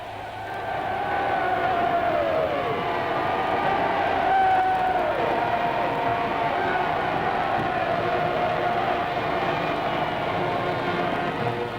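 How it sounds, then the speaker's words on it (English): A vast crowd along the Mall roars with sustained cheering at the 1937 coronation of George VI, a steady distant swell of voices that rises and holds for several seconds in old, muffled recording. "Round the Victoria Memorial and down the Mall goes the roar of cheering, spreading like a slow fire."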